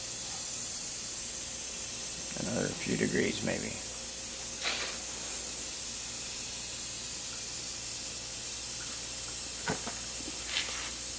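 Carpet cleaner wand spraying hot water heated by a Volcano 1750 W heater, a steady broadband hiss running throughout at moderate level, with someone talking briefly over it.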